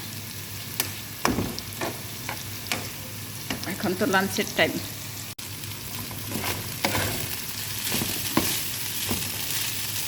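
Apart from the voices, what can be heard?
rice frying in a pan for chicken pulao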